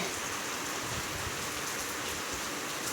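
Steady rain falls continuously, a dense hiss of drops on surfaces all around, even and unbroken with no voices.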